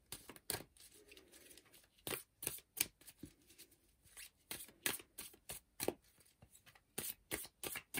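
Tarot cards being shuffled by hand, with quick crisp riffles and flicks in an irregular rhythm, close and fairly quiet, with no voices.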